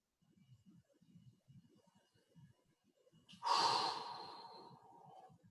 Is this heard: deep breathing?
yes